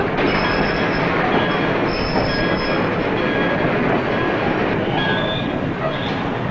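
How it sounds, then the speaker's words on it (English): Passenger train running steadily on rails in a 1939 drama, a loud continuous rumbling roar with repeated high-pitched wheel squeals rising and fading several times over the noise. "I wish this train would stop."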